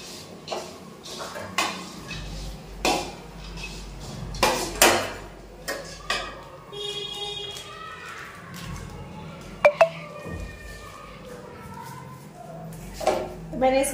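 Jaljeera powder stirred in a metal vessel, heard as repeated scraping and clinking of a spoon against the pot, with occasional louder knocks and someone speaking in between.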